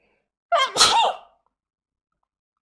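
A woman sneezes once during a gaming session, a sharp sudden burst with a quick intake before it, close and loud against otherwise near silence.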